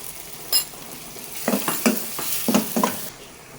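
Mung bean curry seasoned with cumin powder and salt sizzles steadily in a pan while a spoon scrapes and stirs in several short, close strokes, with no talking.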